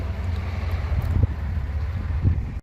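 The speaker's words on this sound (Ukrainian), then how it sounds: "Дуже весна, така вітряна, знаєте." Wind rumbles against the microphone in a low, fluctuating blow, with a few soft knocks, nearby and moderately loud.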